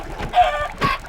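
A chicken gives two short, close clucks about half a second apart, loud and clear with nothing else around them.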